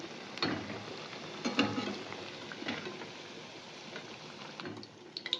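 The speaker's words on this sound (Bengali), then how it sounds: "আর একটা পিঠ আমি উল্টে দিয়েছি। তো লালচে লালচে করে ভাজা হবে।" Quiet, steady frying sizzle of bread pakoras in oil, broken by a few scraping stirs and clinks from a utensil in the pan.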